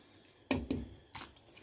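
Pieces of calamari drop into a pot of water on the stove, two quick close splashes followed by a third softer one, with nothing else in the background.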